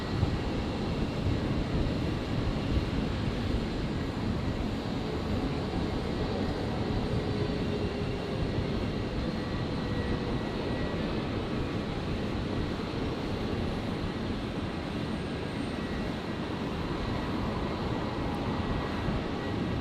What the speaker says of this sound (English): So it's just beginning its taxi by the looks of it.